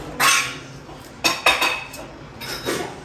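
Onion bhaji batter being mixed in a bowl, heard as a spoon scraping and clinking against the dish in a few separate bursts, close and fairly loud with no talk.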